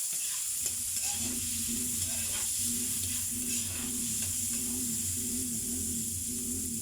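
Pork chop sautéing in a pan gives a constant close sizzle and hiss, with a low rhythmic scraping of stirring running underneath throughout.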